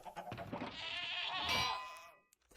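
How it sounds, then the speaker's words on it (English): A screaming goat in Minecraft lets out one long, strained, human-like bleat that swells, peaks and trails off, with faint clicks afterward. "Can you chickens shut up while I listen to the screaming goat, please?"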